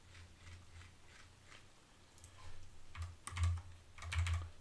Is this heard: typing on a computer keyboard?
yes